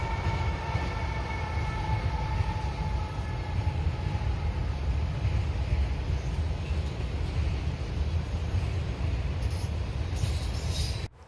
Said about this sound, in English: This is an NS eastbound auto rack train.